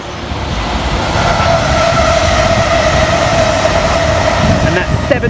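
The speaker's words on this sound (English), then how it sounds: "And in the background, passing for Greater Anglia, will be 1 Alpha 33 from Harwich Town through to London Liverpool Street." A Greater Anglia passenger train on the Great Eastern Main Line, running from Harwich Town to London Liverpool Street, passes close by with a steady, loud rumble and rail roar. A faint tonal whine holds through the pass and nobody speaks.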